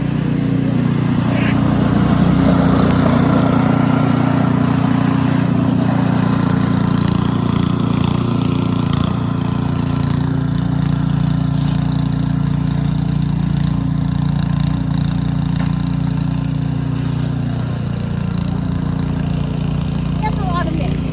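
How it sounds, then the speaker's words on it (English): Snow blower running steadily after a snowstorm, a loud continuous engine drone close by that holds for the whole stretch, with no clear speech over it. "But Dad is doing the snow blower. It's very loud right now."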